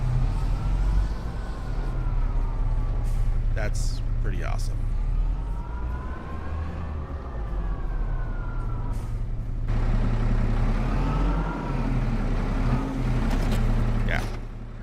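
A tractor engine in Farming Simulator 25 revs up and holds a loud, steady rumble with rising and falling whine, running continuously under a voice that talks over it near the end.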